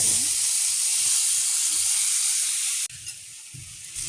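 Coconut and jaggery cook in ghee in a wok, giving a steady close sizzle and hiss that cuts off abruptly, then quieter frying with light stirring scrapes.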